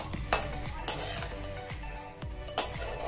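Semolina (rava) roasting in a pan is stirred with a utensil, giving repeated scraping strokes and clinks against the metal over a soft steady sizzle, moderately close.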